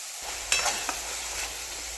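Spiced masala roasting in oil in a pan for an Afghani egg curry, with onions already fried, gives a steady close sizzle broken by a few scraping stirs. No one speaks.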